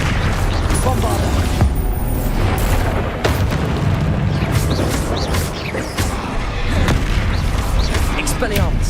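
Spell explosions and combat blasts in Hogwarts Legacy, a dense, continuous barrage of booms and sharp bursts heavy in low rumble, with voices calling out among the impacts.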